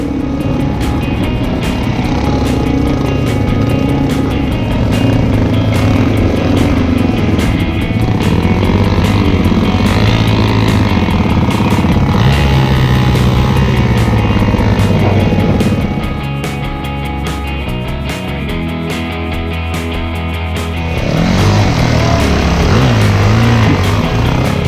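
Motorcycles churn through swampy ground on the Frenchmans Track in Cape York, engines droning loudly and continuously and rising and falling as they push through.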